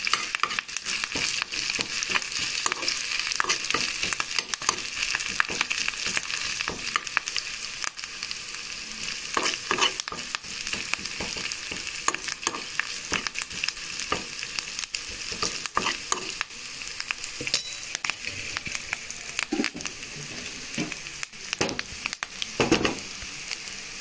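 Green chillies and curry leaves frying in hot oil, loud steady sizzling with frequent scraping stir clicks and crackles throughout, close up and without speech.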